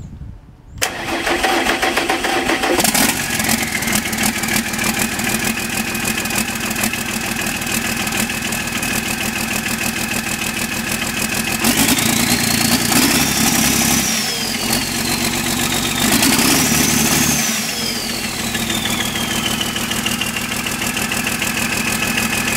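A Sisu 645 diesel engine with a suspected mechanical fault starts and runs steadily, loud and close, with its pitch rising and falling through two brief revs before it settles back to a steady idle.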